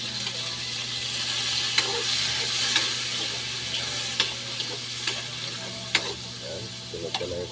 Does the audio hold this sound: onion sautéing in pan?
yes